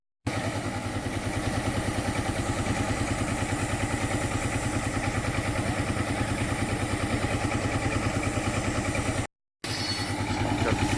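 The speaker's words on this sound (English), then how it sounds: "Another saw prepared ready, powered by the tractor there. The old Marshall tractor there." An old Marshall tractor at the Cotswold Show drives a wood-cutting saw, its engine thumping in a steady, loping rhythm at close range, with a brief dropout near the end.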